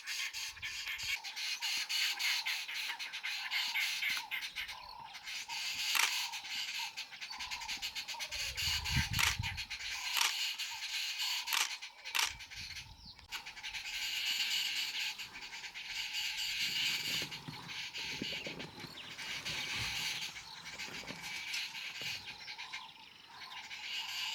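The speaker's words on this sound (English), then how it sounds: "Babblers are always full of energy, moving around noisily as if they are constantly gossiping about everything happening in the wild." Babblers chatter noisily and continuously at Lake Manyara, Tanzania, a dense mix of harsh squawks and chirps from several birds at moderate distance, with occasional low rumbles underneath.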